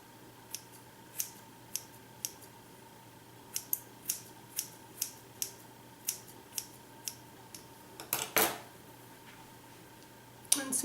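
Scissors snip side-swept bangs in short, evenly spaced crisp cuts, one at a time, close and quiet against a faint hum, ending in a louder rustling burst.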